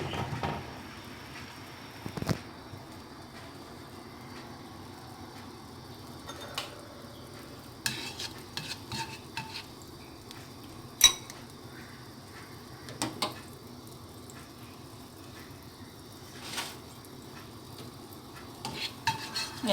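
Butter melting in a hot pan while cooking Roti Prata, a soft low sizzle under scattered clinks and scrapes of a utensil stirring, with sharp taps at irregular intervals.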